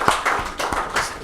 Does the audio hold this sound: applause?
yes